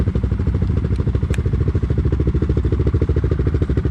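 A Kodiak off-road vehicle crawls in low gear with four-wheel drive engaged, its engine thrumming in a steady fast pulse with mechanical clatter throughout, close and continuous.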